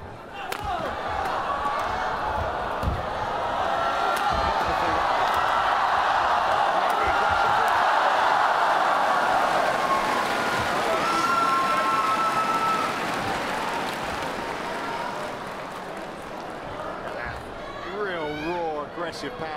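A large indoor crowd at a men's doubles badminton match at the 2013 BWF World Championships roars and claps in a broad swell that builds and then fades, with scattered shoe squeaks and a commentator's voice over the noise.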